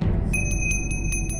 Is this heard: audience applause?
no